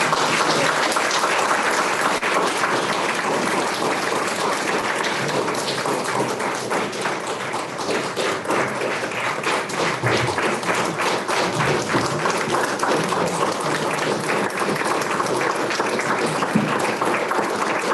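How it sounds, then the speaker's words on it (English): Steady round of applause at a regular school board meeting, moderately loud and continuous with some sharper individual claps and taps, no talking over it. "So, one more round of applause, even though I think half of them"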